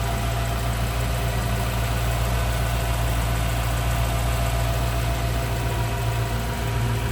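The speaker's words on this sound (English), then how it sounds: "And listen to that engine purr." A 1955 Chevrolet Bel Air convertible's restored 265 V8 idles smoothly and steadily close by, an even low rumble with a faint mechanical ticking and no voices.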